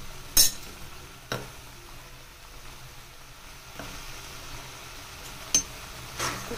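A spoon stirs paneer bhurji with fresh coriander in a pan, a soft steady sizzle with a few sharp clinks of utensil on metal at scattered moments.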